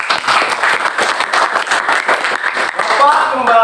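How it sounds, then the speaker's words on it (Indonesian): A classroom of students claps for a group that just presented, a loud, uneven patter of hands with some voices mixed in near the end. "Kita tepuk tangan dulu"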